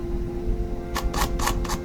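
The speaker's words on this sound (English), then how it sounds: "I'll show you what the shutter speed actually is on high" An Olympus E-M1 fires a quick burst of four shutter clicks, close and crisp, above a steady low electrical hum.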